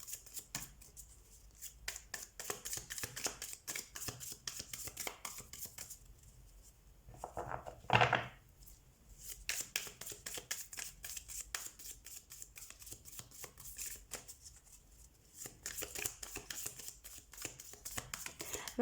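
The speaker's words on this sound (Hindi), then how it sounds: "हाँ बहुत स्मूथ शफलिंग हो रही है" Tarot cards shuffled by hand, rapid soft riffling flutters in repeated bursts, quiet and close, with a brief louder rustle midway.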